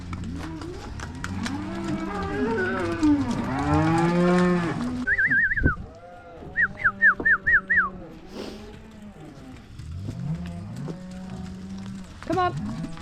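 Impatient dairy cows on a farm moo repeatedly, several long, loud calls overlapping near and far, broken by a short series of bright whistle-like squeals midway, with livestock noise continuing throughout.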